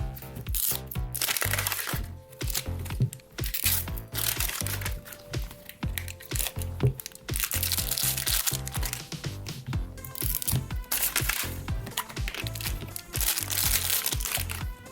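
The crinkly wrapper of an LOL Surprise ball toy, a second layer printed with hearts, is peeled open by hand. It makes close, irregular bursts of crackling and crunching that go on throughout.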